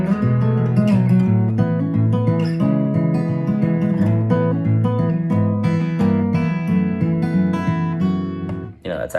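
Acoustic guitar with a capo plays the lead intro section of a tune, a continuous flowing fingerpicked melody over ringing bass notes, loud and close, with no talk until a brief stop at the end.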